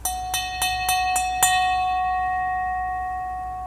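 Built-in bell of a 6th-generation 2025 Toyota 4Runner, tuned by Yamaha, struck six times in a quick even series, each chime bright and metallic, the final ring left sustaining clearly and slowly fading alone.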